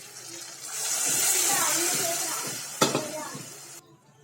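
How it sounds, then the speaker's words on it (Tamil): Water poured into a hot pan of sautéed ingredients for bisibelebath, with a rising hiss and sizzle, then a sharp clatter and bubbling before it cuts off. "இப்போ இதோட தண்ணி நான் சேர்க்கிறேன்."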